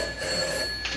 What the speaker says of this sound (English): That is my telephone ringing, isn't it?